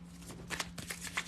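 Tarot cards are shuffled quietly and close by in a brief burst of soft riffling and flicking.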